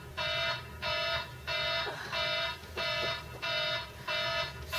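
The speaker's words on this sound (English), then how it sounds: "I turn off my alarm" An alarm clock rings in a steady pulsing pattern of about seven evenly spaced electronic beeping bursts, fairly loud over a faint room hiss, with no one speaking.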